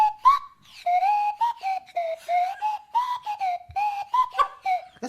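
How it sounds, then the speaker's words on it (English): A Swanee whistle is played in a playful quiz setting, its slide-pitched tone gliding up and down in a run of short, bouncy phrases, loud and close with no talking over it. "Grace on the Swanee whistle."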